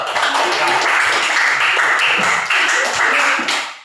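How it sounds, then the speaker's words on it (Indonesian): Students in a classroom clapping together, a dense, steady patter of many hands close by that runs for several seconds before tapering off. "Oke, tepuk tangan dulu."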